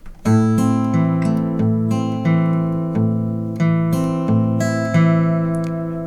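Fingerpicked acoustic guitar alternating low bass notes with plucked treble strings in a steady, moderate rhythm, close and clear with no voices.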